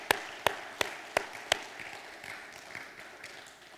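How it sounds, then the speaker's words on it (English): Five sharp, evenly spaced claps ring out near the front of a church congregation during a Mother's Day service, honouring the mothers present. Softer, scattered clapping follows and fades out. "would you please stand and give them a round of applause and a standing ovation?"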